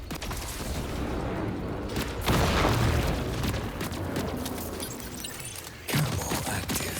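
Grenade explosions in the video game Marathon, with heavy booming blasts, one strong burst early and another near the end, over a continuous din of in-game combat noise.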